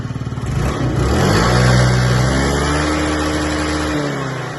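Yamaha Jog SA39 fuel-injected scooter engine running close by, a small buzzing motor that revs up smoothly, holds a steady high whine, then eases off near the end, heard alone.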